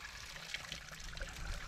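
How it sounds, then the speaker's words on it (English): Water overflowing from a full bucket on a garden water setup, a soft continuous trickle and splash spilling over the rim, close and fairly quiet. "the bucket's staying full and it's overflowing"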